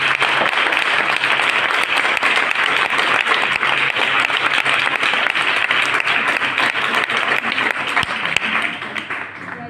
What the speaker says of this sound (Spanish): Un aplauso para Ana.